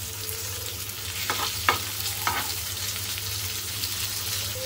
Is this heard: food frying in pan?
yes